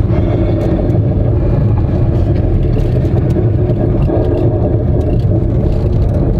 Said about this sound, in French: écoutez le bruit que ma voiture fait quand je freine